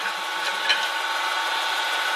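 A pen mill squares the end of a wooden pen blank, giving a steady, continuous scraping and rubbing of wood under the cutter, close and even throughout with no talking.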